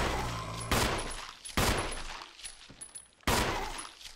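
Gunshots in the Resident Evil remake, four loud, sharp blasts spaced about a second apart, each followed by a brief decaying tail, with quieter clatter between them.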